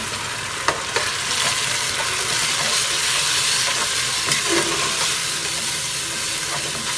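Onions sizzling with a spice mix in a pan for beef pulao, a steady loud hiss of frying with a few faint scrapes of stirring.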